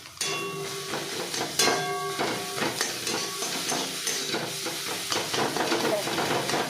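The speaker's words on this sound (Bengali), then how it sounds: "এইভাবে পুরো নেড়ে ছেড়ে সুন্দর করে ভাজতে হবে" Egg bhurji stir-fried in a pan, a steady close sizzle and hiss with scraping stirring strokes and occasional metallic clinks of the spatula throughout.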